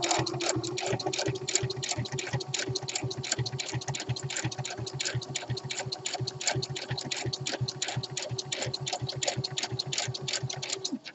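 A sewing machine fitted with a twin needle stitches fabric along the edge of the presser foot, giving a continuous, evenly ticking run of rapid needle strokes, close and steady throughout.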